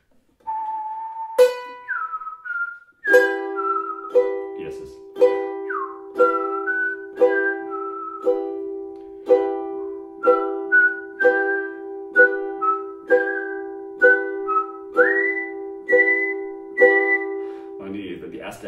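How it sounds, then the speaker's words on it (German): Whistled Bella Ciao melody over steady strummed ukulele chords in E minor, the tune in clear sustained phrases riding a regular rhythmic strum, close and fairly loud, with a brief spoken word at the start. "Ich pfeife die Melodie dazu und wir spielen hier E-Moll."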